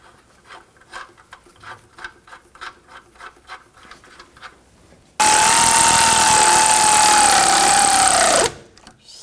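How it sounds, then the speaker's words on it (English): An 18mm ratchet wrench tightening a suspension nut on a 2004-2009 Audi A4 Quattro lower control arm, a run of rapid rhythmic clicks, followed by a loud, sustained whining power-tool burst that cuts off abruptly. "Now we'll tighten this nut down."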